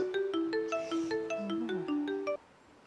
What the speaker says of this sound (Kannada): ಶಶಿಗರ ಫೋನ್ ಹಚ್ಚೋಣ.